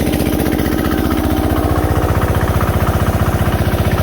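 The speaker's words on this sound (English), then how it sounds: "we're also going to listen to the motor as well as they turn these things on" Onan DJA/DJB/DJC generator engine running loud and close, a steady rhythmic chugging putter with even pulsing beats that continue throughout without voices.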